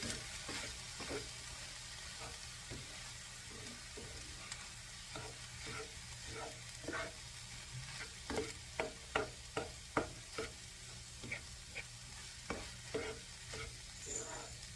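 A chili powder mixture is stirred in a pan on a stovetop, steady soft sizzling under a string of close, rhythmic scraping and tapping strokes from the spoon.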